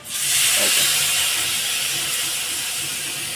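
Ground cumin, Kashmiri chilli powder and turmeric hit hot oil in a frying pan, giving a loud, steady sizzling hiss that flares at once and holds for a few seconds, slowly easing off.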